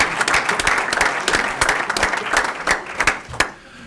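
A school district board meeting crowd gives loud, sustained applause for retiring school employees with 35 years of service, a dense burst of clapping that tapers off at the end.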